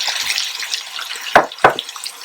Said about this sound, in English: I'm going to add some beef broth or beef stock.